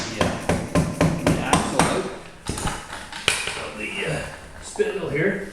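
Hammer striking a punch against the rear spindle of a Yamaha Rhino side-by-side, a quick series of sharp metallic taps followed by a few heavier blows, close, with a voice talking faintly in between.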